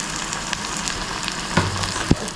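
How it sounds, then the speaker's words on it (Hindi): Spices for a paneer curry fry in a pan with a close, steady hiss and crackle, and a couple of sharp clicks, likely a utensil against the pan. "अच्छे से फ्राई करते हैं मसाले को।"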